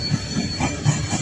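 A long coal train rolls past at Quinnimont, West Virginia, its loud, close wheel rumble and rhythmic clatter running steadily with a faint high squeal above.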